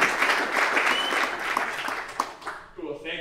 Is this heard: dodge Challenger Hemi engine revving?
no